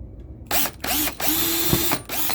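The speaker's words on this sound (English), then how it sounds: "Drilling right through the screw right now." A drill bit boring out a broken screw on a pinball machine, several close bursts of whirring drilling separated by brief pauses, loud and alone.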